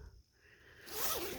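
A zipper slides open on the door of a two-person Onetigris mesh tent, a brief close rasping pull that builds after a quiet start.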